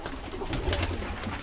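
Birmingham Roller pigeons in a loft, heard as a brief burst of soft, low cooing and rustling close by, with no one talking.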